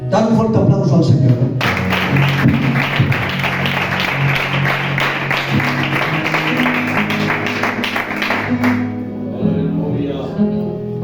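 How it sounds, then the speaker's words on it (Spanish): Church congregation breaks into loud, sustained applause, a dense wash of many hands clapping for several seconds over background music, after a voice speaks at the start, then fading out. "Dale un fuerte aplauso al Señor."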